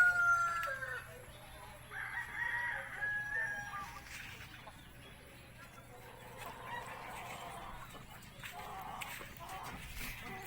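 Native chickens with a Rhode Island Red among them, calling and crowing in a free-range yard, with rooster crows and clucks rising and falling across the clip at moderate distance, plus faint talk in the background.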